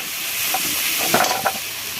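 Masala spices frying and being stirred in a pan for a village-style chicken curry, a loud steady sizzle with a few brief scraping stirs near the middle.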